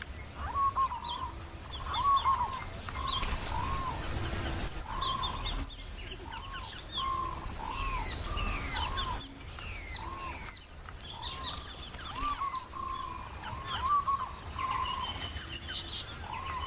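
Red-browed finch and diamond firetail calls in Australian bush: repeated high, thin chirps and tweets in bursts throughout, fairly close, over a steady background of insects and other birds.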